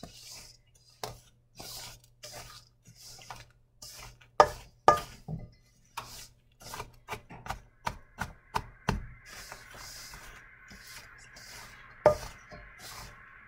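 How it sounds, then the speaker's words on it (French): Wooden spoon working raspberry muffin batter in a bowl, a steady run of soft knocks and scrapes in a quiet kitchen with a faint oven hum behind. "Qu'on va venir brasser à l'aide de notre cuillère de bois"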